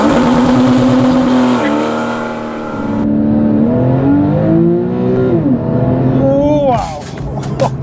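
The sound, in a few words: Porsche 991 Carrera accelerating hard from standstill in sport mode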